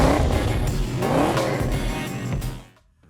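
A 1999–2004 Ford Mustang GT with an MBRP 2.5-inch cat-back exhaust revs loudly with a deep, throaty exhaust note, rising and falling in pitch a few times before cutting off sharply.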